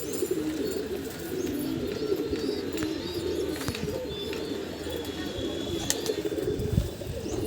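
Pigeons perched on a crate coo continuously in a low, throaty murmur, several birds close by, with occasional chirps and flutters over the steady cooing.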